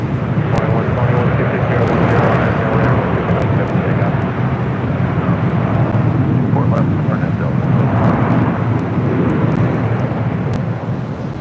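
A LOT Polish Airlines jet arriving at LAX after a long flight from Warsaw roars past in a broad, continuous engine rumble and rush, loud and sustained with wind buffeting, while people talk over it.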